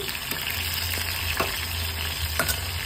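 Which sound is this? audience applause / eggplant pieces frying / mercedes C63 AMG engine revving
eggplant pieces frying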